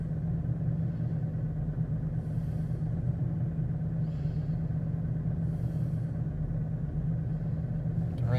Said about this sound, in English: Make sure engine is running.